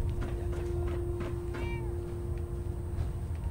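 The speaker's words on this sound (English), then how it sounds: "Oh, little kitty cat." A cat in the video game Fallout 4 gives one short, rising meow over a constant low in-game hum.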